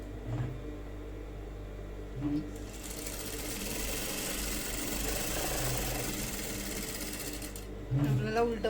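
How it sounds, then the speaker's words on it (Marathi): An electric sewing machine runs through a steady burst of stitching on blouse fabric, a close mechanical whir with faint pauses at start and end where a voice speaks. "त्यासाठी मी स्टिच मारून घेते।"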